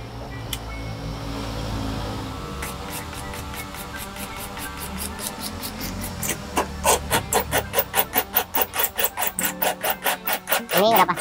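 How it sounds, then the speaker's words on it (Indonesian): A power drill with a hollow bit whirs and grinds into a hard surface while fitting a power tailgate, the pulsing chatter growing louder and more rhythmic toward the end, close up. "Setelah itu kita menggunakan bor mata bornya yang hollow ya."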